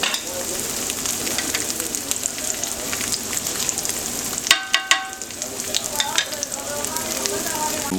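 Tofu coated in cornstarch fries in a pan with a steady, loud, close sizzle and crackle, a few sharper pops and stirring clinks midway, and faint talk underneath.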